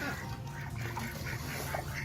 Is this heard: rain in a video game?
no